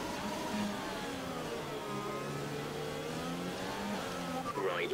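A Formula 1 car in F1 2020 drones steadily, its engine note rising and falling through the gears at moderate level, with a commentator's voice and radio talk over it.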